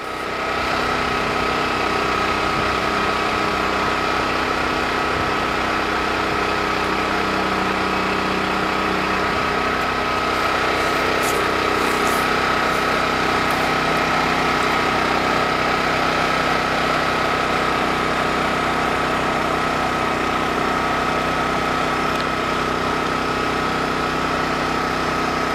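A Champion 2500 watt dual-fuel generator, model 200961, runs on LPG with a constant close engine drone and a steady whine, unbroken throughout with no talk.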